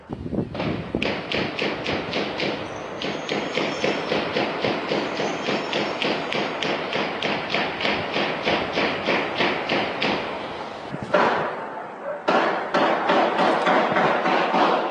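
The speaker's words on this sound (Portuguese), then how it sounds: "Na imagem, é possível ouvir os disparos." A rapid, steady series of sharp, loud bangs fires continuously, briefly interrupted by louder bursts: sustained gunfire echoing nearby during an intense shootout in Rocinha, Rio de Janeiro.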